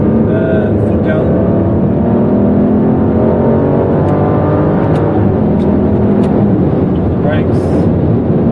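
An Aston Martin DB9's V12 engine revs up hard in manual mode, its roar climbing in pitch and staying loud and close inside the cabin throughout.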